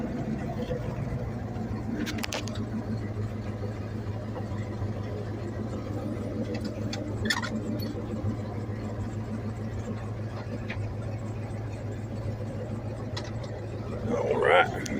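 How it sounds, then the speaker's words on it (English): A truck engine idles steadily with a low, even hum while the truck is eased forward a short distance, with a few faint clanks and a brief louder burst near the end. "I'm gonna pull the truck up just a few"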